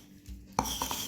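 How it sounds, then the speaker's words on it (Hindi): A metal scoop scrapes and clinks against a bowl of homemade mango ice cream, with a sharp contact followed by a few short scraping touches, close and fairly quiet, with no talk. "उसने आइसक्रीम जो है ना उसको स्कूप आउट करना शुरू कर दिया"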